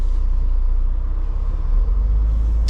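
Steady low engine rumble and road noise from a Mercedes W124 car driving off, a continuous close drone with no talking.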